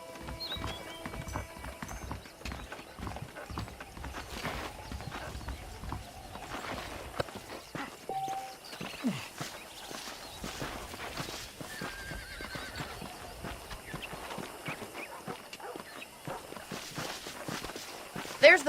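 Hooves clip-clop at a walking pace, joined by an occasional neigh, as a horse moves through a Western frontier town in the video game Red Dead Redemption. The steps stay fairly steady under game music and ambience, with voices talking over them.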